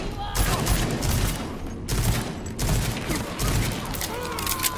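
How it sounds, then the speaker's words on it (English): A burst pistol fires in the shooter game Rage 2, its bursts of shots packed into a dense, loud run of gunfire with game sound and clutter around it. "it's a burst pistol"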